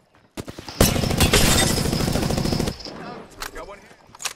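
Sustained automatic gunfire from the Apex Legends video game, a loud dense burst running for about two seconds, followed by scattered fainter shots and game effects.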